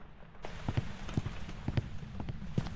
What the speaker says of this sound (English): Especially with all this rain happening.